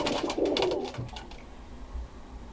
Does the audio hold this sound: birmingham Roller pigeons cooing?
yes